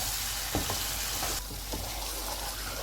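Chicken pieces seasoned with salt and black pepper fry steadily in a hot karahi for Shinwari chicken karahi, a continuous close hiss with a few soft stirring knocks and no voices.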